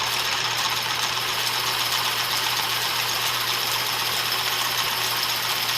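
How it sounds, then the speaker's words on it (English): An electric drill bores into a wooden toy fishing pole handle, giving a continuous, steady motor whine with a low hum underneath. It is close and fairly loud for the whole stretch, with no speech. "I need to drill a hole so that I can insert the actual pole into the handle"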